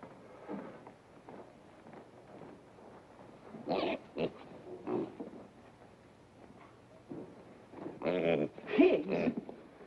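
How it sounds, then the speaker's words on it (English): Pigs grunt and squeal in short bursts around a farmhouse in a hillbilly-themed sitcom scene, with louder clustered squeals near the end, mixed with people talking throughout. "Pigs?"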